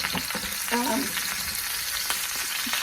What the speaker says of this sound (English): The main objective in cooking them in this grease is for them to get the good flavors that the pork chops left behind.